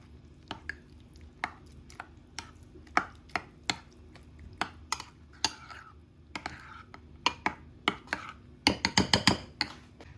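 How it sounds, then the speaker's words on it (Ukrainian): Homemade Big Mac-style burger sauce stirred in a bowl with a utensil, irregular sharp taps and clinks against the dish that speed up into a quick flurry near the end, no talking. "Зараз це все треба дуже гарно перемішати."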